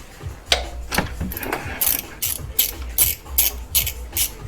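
A ratchet works on idler pulleys in a Subaru WRX engine bay, producing a close run of rhythmic clicking strokes, irregular at first and then settling into a steady back-and-forth pattern.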